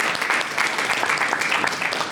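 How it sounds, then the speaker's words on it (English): A crowd at a stage hypnosis show claps enthusiastically, a loud, dense and continuous burst of many hands close by that lasts about two seconds with no talking over it. "Give him a round of applause."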